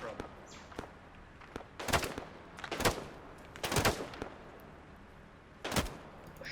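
Gunfire in Arma 3 during a jungle military-simulation mission: four sharp, fairly loud gunshot cracks at irregular intervals over a low background hiss.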